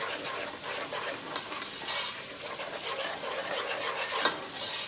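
Chicken korma cooking in a pan, stirred steadily with a utensil, gives a continuous bright sizzle with scraping strokes throughout, close and fairly loud with no talking.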